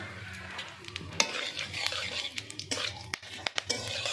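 Whole spices (cinnamon, cumin, cardamom and cloves) hit hot oil in a pan, a faint crackling sizzle broken by sharp clinks and scrapes of a spoon against the pan.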